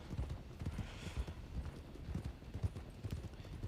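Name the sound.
horse cantering hooves, from the video game RedM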